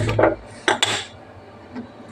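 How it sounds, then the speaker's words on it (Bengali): A few metallic clanks and knocks of a wok being set down and shifted on a gas stove, close by, followed by quiet. "এই যে এদিকে কড়াই বসাইছি, গ্যাসটাও জ্বালাই দেবো এবারে"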